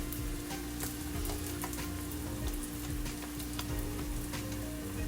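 A potato cheese pancake fries in a pot with a steady, close, crackling sizzle of hot oil that keeps up without a break, with no voices over it.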